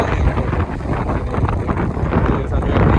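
Heavy wind at the Beypore coast, Kerala, buffets the microphone and produces a constant roaring rumble. The rumble stays loud and unbroken for the whole stretch.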